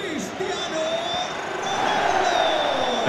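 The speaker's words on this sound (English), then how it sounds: "Crowd encouraging him to take it on" Stadium crowd in a football video game, a sustained roar of cheering that swells slightly toward the end, with commentary voiced over it.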